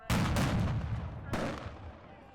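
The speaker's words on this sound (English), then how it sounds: "Some fired fireworks at law enforcement." Fireworks fired at law enforcement during a street protest go off in two sharp, booming blasts about a second apart, each trailing into a rumbling echo.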